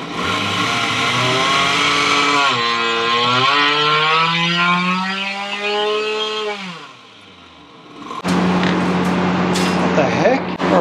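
A Vortex Rok GP kart engine revs hard under load, its pitch climbing and wavering for several seconds before it cuts out into a short lull, then comes back as a rougher, noisier roar.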